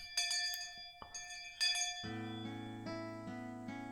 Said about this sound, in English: Looks like the bell to signal the end of lunch has come.